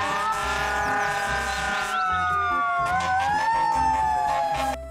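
A toy fire truck, muddy from digging and cleaning, sounds its electronic siren, a loud, steady wailing tone that sweeps up and down continuously near the listener, with no talk over it.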